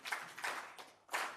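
An audience applauds the organizing team at an international municipal managers' exchange event, three short bursts of clapping with brief lulls between them, moderately close.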